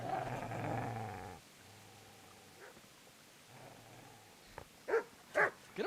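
A dog in Kingdom Come Deliverance growls low and rumbling at the player in several drawn-out spells, followed by a few sharp barks near the end.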